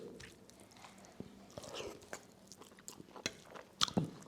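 Someone eats duck curry with garlic up close, soft wet chewing and bites with a few sharper crunches near the end, quiet with no talking.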